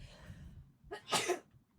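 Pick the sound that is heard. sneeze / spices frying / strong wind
sneeze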